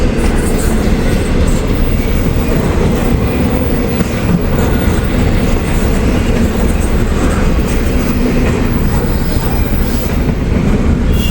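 A freight train carrying Amazon trailers on the old B&O and Pennsy lines rumbles past nearby, loud and continuous, with a steady roar of rolling wheels and faint clacking throughout.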